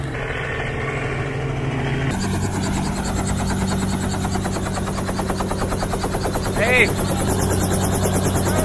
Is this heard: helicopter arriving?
yes